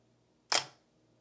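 A 35mm film camera shutter fires once at 1/125th of a second, a single crisp mechanical click-clack, close and clear against quiet room tone with no talking.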